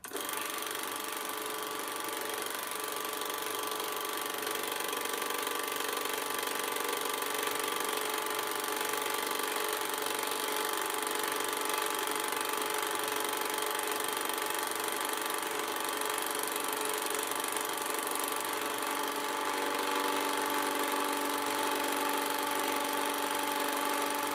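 A Canon Scoopic 16M 16mm film camera, just repaired and nearing the end of its reel, runs with a steady, close mechanical whir and buzz that holds unchanged for over twenty seconds.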